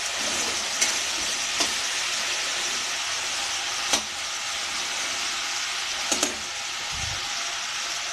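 Vegetables frying in a pan on a low flame for an Assamese vegetarian thali give a steady close-up sizzle, with a few sharp clicks and light scrapes now and then.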